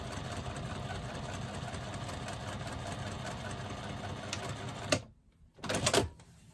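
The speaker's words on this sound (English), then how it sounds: "One back stitch as we go on to that next piece" A sewing machine stitching fabric pieces with back stitches: a steady, close mechanical whir and rapid needle ticking that runs continuously, then stops abruptly and restarts briefly near the end.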